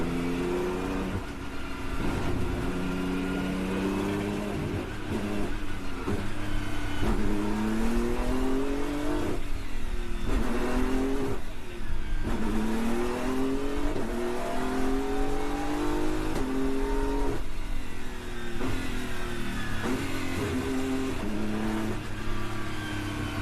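GT and sports race cars in an endurance race at the Brno circuit, engines roaring and revving continuously as cars pass close by, rising and falling pitch with gear changes, no talk.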